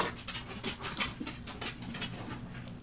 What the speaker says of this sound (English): my dogs are not settling down and they're all over the place.